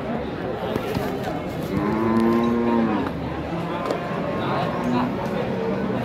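Cattle low and moo repeatedly at a bustling livestock market in Jatirogo where beef cattle are traded, the calls close and clear over steady crowd noise and voices.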